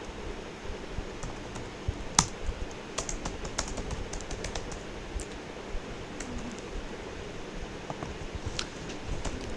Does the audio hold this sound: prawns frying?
no